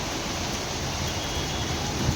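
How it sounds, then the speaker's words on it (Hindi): Heavy rain pours steadily on a cold morning in Delhi, a dense, even hiss of downpour that holds at a constant level for the whole stretch, with no voices. "आज ठंड में धुआंधार बारिश"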